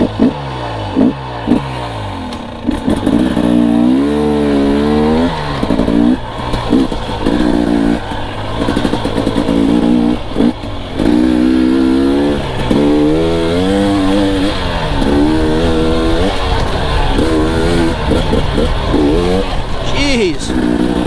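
A GasGas EC300 two-stroke dirt bike being ridden, its engine buzzing and revving up and down continuously and loudly up close, with a person talking over it throughout.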